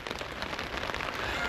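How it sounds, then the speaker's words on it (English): Heavy rain pounds steadily on a tent or nearby surface during Storm Darragh at a cold campsite, a dense, continuous hiss close by with no voices. "it is cold and it's raining"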